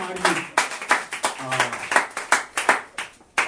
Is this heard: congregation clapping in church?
yes